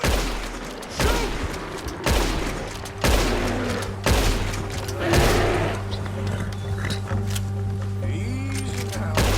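Gunshots ring out during a deer hunt in Red Dead Redemption 2, about six sharp, loud blasts spaced roughly a second apart over a steady ambient game background.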